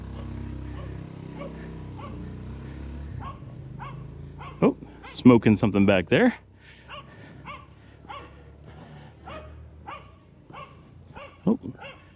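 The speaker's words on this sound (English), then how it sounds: "I thought that dog was barking at me" A dog on a street in a barrio of León, Nicaragua, barks in a quick cluster of loud, close yaps amid the noise of a walk, with someone talking before and after.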